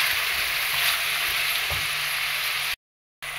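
Chopped onion sizzles steadily in hot lard for a pork goulash with potatoes. The loud, close, continuous frying hiss cuts out briefly near the end and then resumes.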